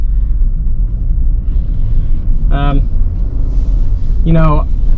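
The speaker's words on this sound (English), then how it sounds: "All right, so driving the Bronco First Edition." A 2021 Ford Bronco First Edition on the road gives a steady, close, low engine and road rumble throughout, with two short bursts of voice over it.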